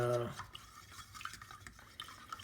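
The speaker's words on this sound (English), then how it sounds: "I'm just stirring up the walnut stain." Walnut wood stain being stirred in its can, soft liquid swishing and faint scraping strokes at close range, quiet and steady after a brief tonal hum at the start.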